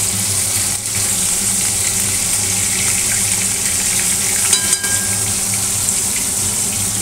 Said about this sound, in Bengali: দেখো আমি এখন মাছগুলোকে ভেজে নিচ্ছি।